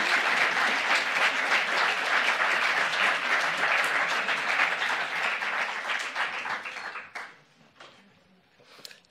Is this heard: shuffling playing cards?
no